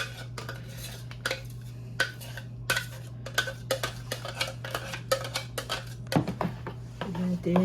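A metal spoon scrapes and clinks against a pan while Afghan chicken curry with green chillies is stirred and mixed, the taps coming in an irregular rhythm over a steady hum, louder toward the end.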